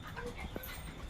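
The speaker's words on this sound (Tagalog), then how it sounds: "Hindi yan askal yung aso na" Dog whimpering softly, a brief faint whine rising once amid low background noise, with a little panting-like breath around it.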